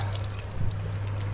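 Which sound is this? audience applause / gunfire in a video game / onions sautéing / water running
water running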